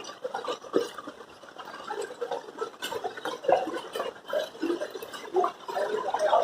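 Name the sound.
floodwater flowing along a street in Nalasopara, Mumbai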